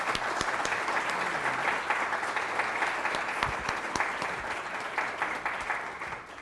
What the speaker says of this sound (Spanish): lo recibimos con un aplauso y le damos la palabra